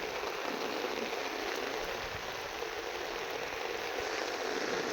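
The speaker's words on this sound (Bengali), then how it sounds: "প্রচণ্ড বৃষ্টি হচ্ছে ভোর থেকে" Heavy rain that has been falling since dawn pours down by a river ferry landing in Falta, South 24 Parganas, as a steady, dense, even hiss with no pauses.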